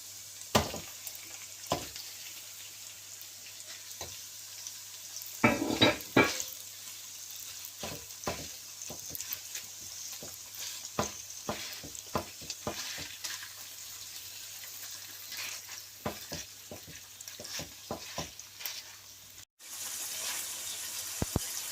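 Minced meat fries with onion in a pan, making a soft, steady sizzle broken by frequent spoon scrapes and taps as it is stirred, fairly quiet and close throughout.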